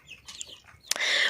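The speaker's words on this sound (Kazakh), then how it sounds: "Так, міне китайский шелковый балапандарым." Chinese Silkie chicks in a chicken coop, a few soft clucks and chirps close by, followed by a bright, sustained higher-pitched peep at the end.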